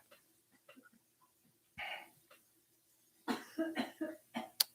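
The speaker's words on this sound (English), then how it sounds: "Haley's over here coughing up a storm." A person coughs, starting with a few soft breaths and a single harsh cough, then a quick cluster of four or five close, fairly loud coughs near the end.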